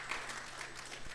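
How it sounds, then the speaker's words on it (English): Conference audience clapping for panel speakers at the Kenya Universities Funding Conference, a soft, steady patter of many hands heard from a distance. "Let's clap for them, please."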